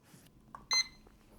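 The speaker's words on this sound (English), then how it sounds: "it's this, a kitchen timer" A single short, high electronic beep from a kitchen timer, quiet and alone against a near-silent background.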